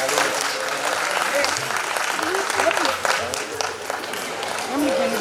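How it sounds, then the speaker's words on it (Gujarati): An audience claps steadily at a Bhagwat Katha gathering, a dense sustained round of applause from start to finish with people talking over it. "આપણે સૌ તાળીઓથી સહભાગી થઈશું."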